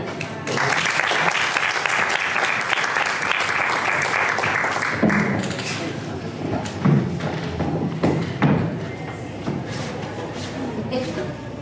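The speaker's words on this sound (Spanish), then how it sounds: "con los aplausos" An audience claps loudly and steadily for several seconds, then the applause thins out into scattered claps and thumps with a voice speaking faintly.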